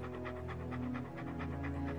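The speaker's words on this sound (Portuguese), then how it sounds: "eles também praticam outro aspecto familiar do comportamento canino: arfar" Rapid rhythmic panting from a dog, quick regular breaths repeating about six times a second, close and fairly soft over a steady low background hum.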